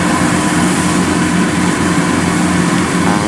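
A Kubota DC108X combine harvester engine runs steadily and loudly at close range, a dense continuous drone while harvesting rice in the rain, with no talk over it.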